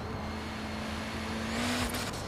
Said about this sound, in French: vraiment la voiture pousse extrêmement fort